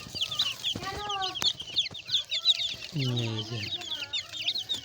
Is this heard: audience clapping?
no